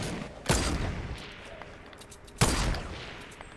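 Two sharp, loud gunshots crack out in Fortnite about two seconds apart, each trailing off into a short echoing tail over quiet game ambience.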